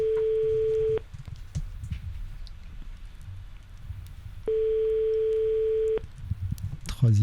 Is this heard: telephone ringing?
yes